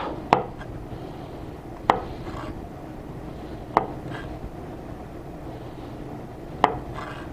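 A knife cutting small stem pieces off herbs for homemade pesto, four sharp chops spaced a second or two apart on a board, each followed by faint rubbing, over a low steady background hum.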